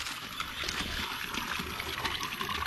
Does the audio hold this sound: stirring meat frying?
no